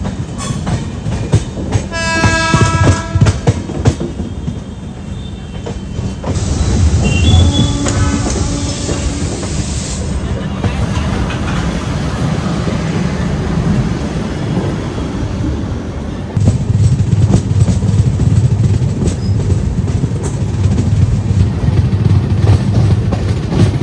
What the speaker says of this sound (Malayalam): അപ്പോൾ പ്ലാറ്റ്ഫോം 1ലായിരിക്കും നമ്മുടെ ജലം എക്സ്പ്രസിനെ കയറ്റുന്നത്.